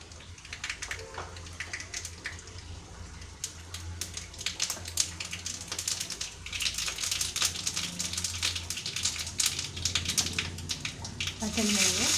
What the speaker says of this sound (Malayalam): ഇനി അതിൽ കടുകും വറ്റൽമുളകും കറിവേപ്പിലിട്ട് വറവിടാം